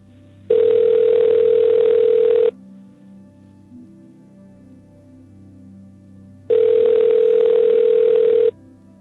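A telephone call connecting plays two loud, steady ringback tones, each about two seconds long, separated by a few seconds of quiet line hiss before voicemail picks up.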